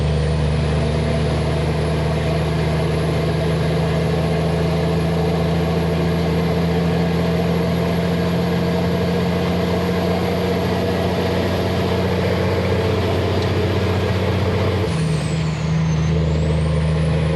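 A modified truck engine with cam and exhaust upgrades idles and runs steadily with a loud, constant drone, then drops pitch abruptly near the end as a gear shift is made, with a hissing release following.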